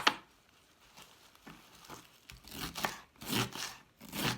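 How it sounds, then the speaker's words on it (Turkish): Knife finely chopping mendek, an edible wild herb, on a board: soft, irregular crisp cuts that grow denser and louder toward the end, close by and without talking. "Biraz ince doğrayacağız mende. Bu otu."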